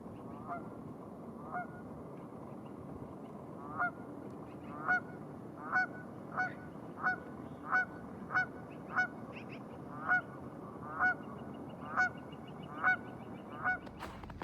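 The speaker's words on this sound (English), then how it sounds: "geese that winter all year long in Saskatoon" Geese that winter in Saskatoon honking by an open stretch of river, a run of a dozen or so sharp, fairly close honks at an uneven pace over a low steady background rumble.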